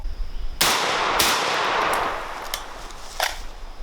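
An SAS-12 12-gauge shotgun fires cheap bulk 7.5 shot loads outdoors, one loud sharp blast with a long ringing decay, then a few fainter clanks or reports trailing after.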